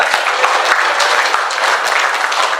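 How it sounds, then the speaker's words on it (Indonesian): Audience applause at a student hearing with a parliament member at UIN Cirebon, steady dense clapping from a crowd filling the room, loud and continuous throughout. "Tepuk tangan Pak."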